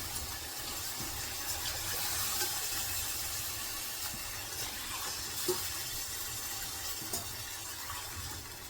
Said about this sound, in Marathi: एक तांब्याभर पूर्ण हे गरम पाणी टाकणार आहे मी